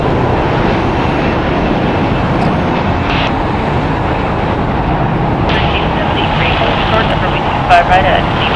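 A SkyWest Airlines Embraer E175 jet, flying as United Express, departs from LAX with a broad, steady roar of engines that holds throughout, while a voice talks over the noise.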